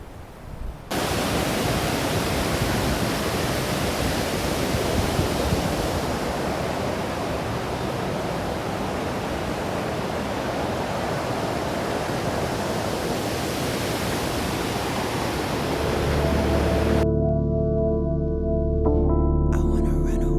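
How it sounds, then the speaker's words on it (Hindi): River water at Sahastradhara rushes and gurgles steadily, a loud broadband roar filling the scene, with music entering near the end. "इतना सुंदर कल कल करता पानी देखकर मन को बहुत शांति मिलती है।"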